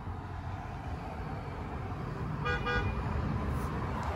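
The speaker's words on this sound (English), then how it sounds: "What are you honking at, you honker?" A car horn toots twice in quick succession at a moderate distance, heard over steady outdoor background noise on a residential street during a central air-conditioning system installation.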